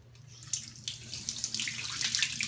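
Water rushes through a freshly opened solenoid valve, a hissing, splashing flow that starts near the half-second mark and grows steadily louder and brighter, with no voices.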